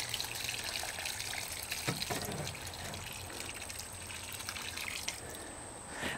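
Water is poured slowly around a newly planted rose set into a brick patio, a steady trickle and splash that pools on the soil, with a few louder drips and gushes.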